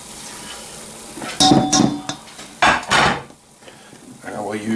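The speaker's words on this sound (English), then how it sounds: "and then we're going to mix it" Ingredients for a tomato soup cake, including butter and egg, are mixed in a pan, with several loud scraping and clattering strokes of a utensil against metal between quieter stretches.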